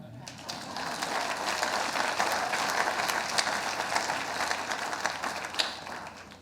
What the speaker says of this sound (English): It's okay, you can clap.